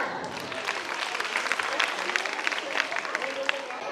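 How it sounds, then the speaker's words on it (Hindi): Applause from an audience at a school annual function quiz, a dense patter of clapping filling the room, with voices mixed into it. "जोरदार तालियां"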